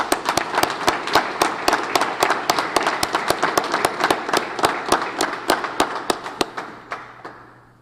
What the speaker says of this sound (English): Could you give him a big round of applause